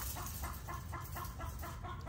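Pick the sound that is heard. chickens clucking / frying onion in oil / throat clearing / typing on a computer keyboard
chickens clucking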